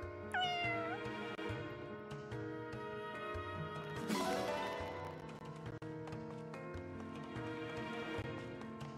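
A cat meows in the video game Fire Emblem Engage, a short rising call near the start over continuous layered game music with a brief swell midway.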